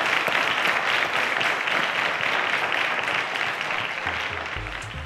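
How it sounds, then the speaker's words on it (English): Steady, dense applause from a studio audience on a televised quiz show, loud and continuous throughout, easing slightly toward the end. "A round of applause to Oluwasegun."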